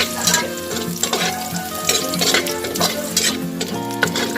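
Chicken balls and kikiam fry in hot oil in a pan, a loud continuous sizzle with stirring scrapes and clinks up close, no voices.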